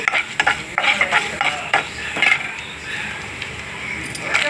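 Urad dal frying until brown in a pan of oil for an ivy gourd chutney, a constant sizzle broken by repeated metallic spoon clinks and stirring scrapes, close and fairly loud, with no talking.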